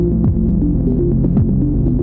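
Synthesizer tones from a live algorave jam, a sawtooth wave overlapping a sine wave, steady and loud with shifting pitched notes layered together and no talking.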